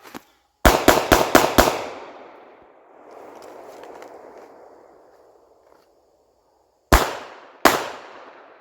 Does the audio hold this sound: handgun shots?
yes